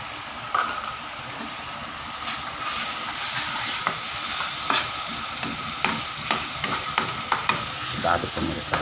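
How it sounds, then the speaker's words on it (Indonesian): Sambal hitam is stirred in a hot pan, a continuous sizzle broken by repeated scraping strokes and sharp utensil knocks against the pan at a fairly regular pace. "Kita aduk pemirsa ya"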